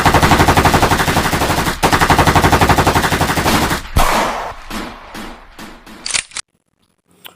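A toy-style mini gun fires in a dense, loud rattling burst for about four seconds, then breaks into a string of separate sharp shots and clicks before a short silence.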